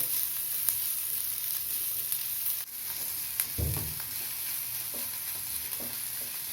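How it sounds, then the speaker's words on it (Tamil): Onion paste sautéing in a pan for a mutton gravy, a soft steady sizzle with a few scattered clicks and one heavier scrape of the spoon partway through, close and moderately quiet, nobody talking. "ரெண்டு மூணு நிமிஷம் வதக்கணும் அப்போ தான் ப்ரௌன் கலராக வரும்"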